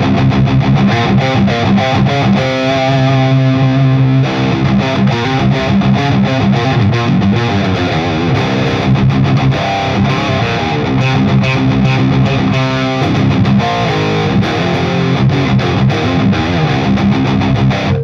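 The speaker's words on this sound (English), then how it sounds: "So this is the maximum gain, so distortion that I can get with only this overdrive" An electric guitar run through a Jeff Loomis Devil's Triad overdrive pedal at maximum gain plays heavily distorted chords and riffs, loud and continuous with saturated, buzzing sustain and no voices.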